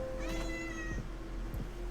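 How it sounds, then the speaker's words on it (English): A cat meows twice in quick succession, a clear, fairly close rising call over a steady low room hum, followed by faint soft thumps. "There's the cat."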